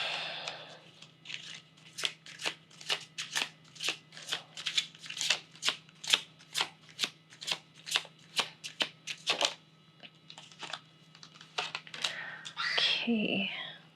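Tarot cards are shuffled up close in a quick run of about twenty crisp, evenly spaced riffling snaps. A soft rustle and a faint voice follow at the end.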